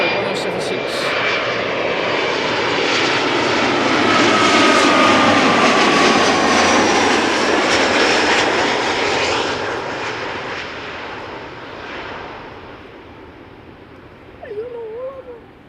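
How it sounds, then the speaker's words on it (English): An Embraer 175 jet arrives at Amsterdam Schiphol, its engine roar swelling to a loud peak midway and then fading, with a brief vocal sound near the end. "Embraer 175 arriving from Bristol, Corendon flight 1076."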